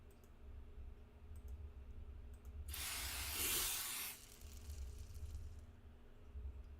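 A WD-40 spray can lets out a single steady burst of hissing spray lasting just over a second, heard close up against a quiet background.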